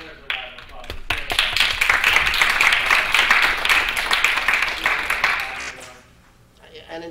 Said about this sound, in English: it deserves a round of applause